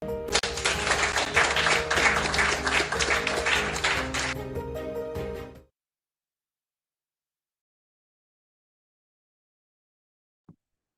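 Applause welcoming the distinguished panelists at a Techeconomy Business Series panel on talent and Africa's workforce, dense and steady for about five seconds, then cutting off abruptly into silence, with one faint tap near the end.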